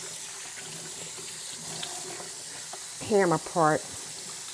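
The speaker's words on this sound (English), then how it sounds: "let me wash my hands up" A kitchen tap runs in a steady, faint stream while hands are washed, and a person speaks briefly near the end.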